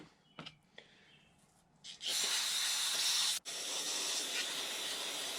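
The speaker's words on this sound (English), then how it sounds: "Blowing everything out, just dusting it off with it." Compressed air blasts Stihl MS 193 C chainsaw carburetor parts clean of sawdust: a few short puffs, then a loud, close, sustained hiss that breaks off for an instant and resumes strongly.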